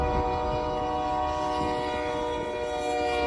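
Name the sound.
train crushing a car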